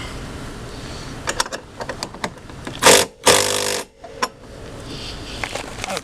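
A wrench works on a bolt on a tow dolly fender outdoors, giving a series of close metallic clicks and clanks with a couple of louder ratcheting bursts in the middle.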